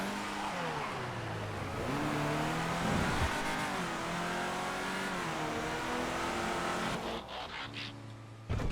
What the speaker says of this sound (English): The Cheetah is such a nice car to drive.